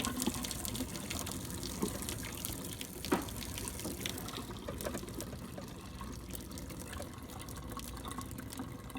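Hot water pours slowly out of a pot of boiled eggs into a sink, a steady close splashing gush lasting several seconds with no talking.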